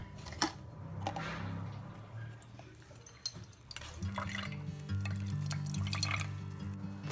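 Fresh coconut blended with milk is strained, giving soft liquid drips and trickles with occasional clinks, quiet and close, while a low hum rises and holds through the latter half.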